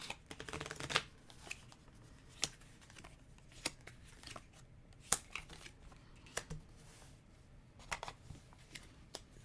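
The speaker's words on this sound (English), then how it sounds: "this is where the variability comes in, as you deal them out." Event cards for a tabletop game are dealt out one by one, soft papery slaps and flicks coming in irregular bursts across several seconds, quiet and close with no voices.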